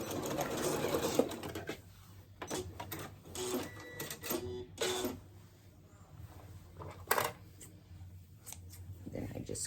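A home sewing machine back stitching a seam on a pair of shorts, its motor running in short bursts with pauses between them and soft handling noises around it.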